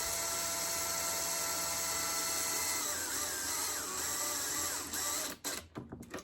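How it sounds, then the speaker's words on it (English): A power drill bores into aluminum with a sustained high whine that shifts pitch midway, loud and close, then cuts off into a few short bursts and quiet near the end. "They're already starting to drill super easy."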